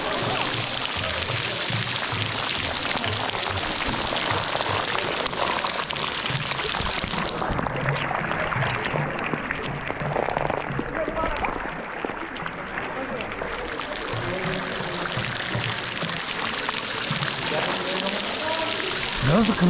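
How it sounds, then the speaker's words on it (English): Waterfall at the Santa Bárbara cenotes in Mexico, a dense, constant rushing and splashing roar that is close and loud throughout, with people talking over it. "Oh, and it's a waterfall."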